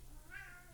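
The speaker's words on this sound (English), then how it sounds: "Cat." A cat meows once, a short rising-falling call in the middle of a steady low background hum, fairly faint and heard alone.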